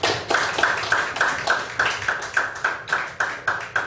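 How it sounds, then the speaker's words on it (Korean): Rhythmic, steady clapping welcomes a former graduate school president to the podium at a Korean forum, the beats evenly spaced, fairly close and clear with no talk over them. "나오실 때 뜨거운 박수로 환영하시겠습니다"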